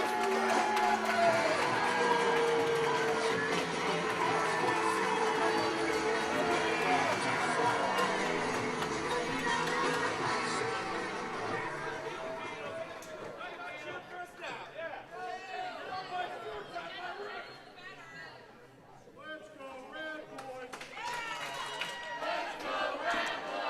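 A wrestling crowd at a Ryse Wrestling show cheers and roars loudly, and the noise fades after a while into scattered chatter and smaller shouts, with a commentator talking over it.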